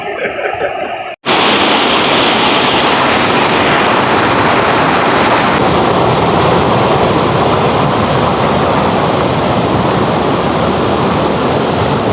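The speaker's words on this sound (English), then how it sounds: "it's just the noise of the water" A loud, steady roar of rushing water at Ermayi Falls, constant and broadband, filling the scene after a brief moment of quieter sound at the start.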